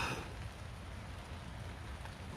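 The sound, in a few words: rain on tent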